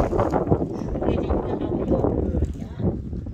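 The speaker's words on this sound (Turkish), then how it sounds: "Arkadaşlar bugün de rüzgar esiyor hafiften." Steady outdoor wind rumble and gusty microphone buffeting fill the whole stretch, loud and continuous, with a voice talking faintly beneath it.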